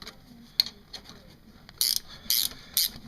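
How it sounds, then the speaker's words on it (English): A pulley puller is cranked to draw a pulley off a 5E-FE engine during a timing belt replacement, giving a few faint ticks followed by three louder, close ratcheting bursts in short succession. "Tighten down those bolts and go ahead and start cranking on the end here."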